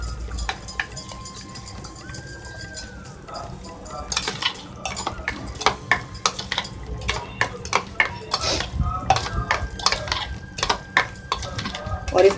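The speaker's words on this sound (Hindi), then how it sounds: "इन सबको अच्छे से मिक्स करेंगे।" Spoon stirring spices into a paste for Rajpipla chicken curry, producing repeated close scrapes and clinks against a bowl in an irregular rhythm, with a faint tone in the background.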